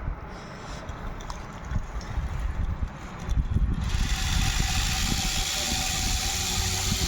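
A BLDC motor spinning up at 20% throttle, a steady mechanical whirr and hum that grows louder partway through and then holds a constant whine.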